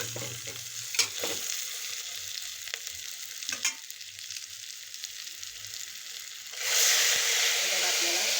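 Stuffed brinjal (bharli vangi) being stirred with leftover masala in a frying pan, with a few scraping stir strokes over a low, steady sizzle that turns into a louder, brighter hiss near the end.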